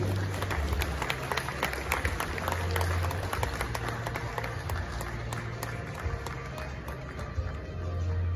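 Steady, dense applause fills a large hall at the 29th GJA Awards at Manhyia as a presenter is welcomed, continuous and even over a low hum, with a voice briefly heard.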